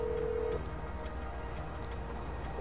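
A phone call to the car mechanic in GTA 5, an in-game ringback tone sounding as a steady electronic beep, then a pause before the tone returns at the end, over faint background hum.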